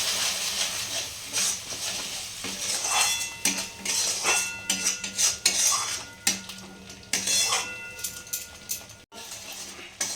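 Fish kalia masala (chara pona, rohu-type fish curry) stirred and fried in a pan, with steady scraping and clinking of a utensil against metal over a soft hiss of simmering masala, close and continuous.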